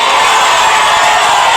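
A loud, continuous crowd roar with cheering and whoops from an audience before a stage song performance, a dense wall of noise throughout.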